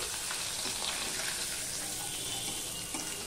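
Small morala fish fry briefly in a pan on a gas stove, a steady dense sizzle and crackle of hot oil continuing without pause, fairly soft and close.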